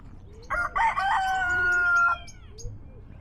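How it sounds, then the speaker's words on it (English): A rooster crows once, loud and nearby among fig trees in a park in Glendale, Arizona, a long strained cock-a-doodle-doo that rises and then fades, with quiet outdoor background. "We got a show-off rooster there."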